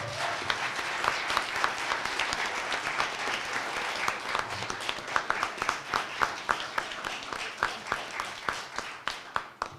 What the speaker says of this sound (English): please give these young people a round of applause.